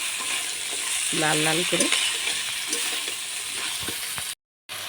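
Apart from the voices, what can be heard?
crabs frying in a pan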